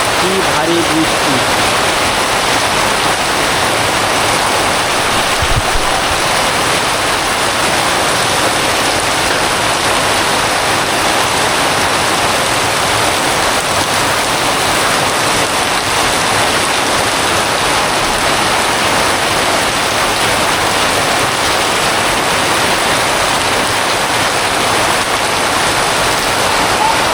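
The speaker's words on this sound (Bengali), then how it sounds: "কি ভারী বৃষ্টি!" Heavy monsoon downpour drumming on a house roof near rice fields, a loud, dense and steady wash of rain that holds without pause throughout, with a faint voice now and then beneath it.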